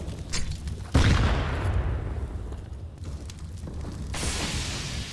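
Artillery strike and gunfire in a competitive tactical shooter match, a sudden heavy boom near one second followed by rumbling blasts and scattered shots that continue steadily to the end.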